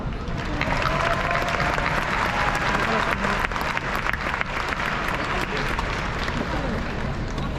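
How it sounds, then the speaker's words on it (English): A crowd at the 2022 Skyview graduation ceremony gives a big round of applause, dense and loud clapping sustained throughout with some crowd noise and voices mixed in. "Big round of applause for all those people."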